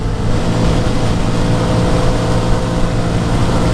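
Honda Grom motorcycle on knobby off-road tires taking a curve at full speed, a loud continuous engine drone with roaring wind buffeting, sustained and close throughout with no talk.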